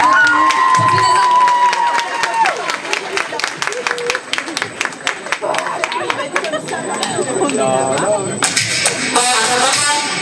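A crowd at the Miss Yonne 2024 pageant claps and cheers amid chatter and shouts, the sound loud and busy, with music rising over it toward the end.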